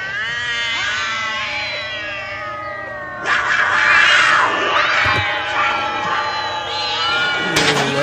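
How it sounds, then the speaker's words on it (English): Many black cats meowing and caterwauling in overlapping wails, loud and close, swelling into a denser, harsher chorus midway with a sharp yowl near the end. "Thirteen black cats on Friday the 13th, Wolfgang."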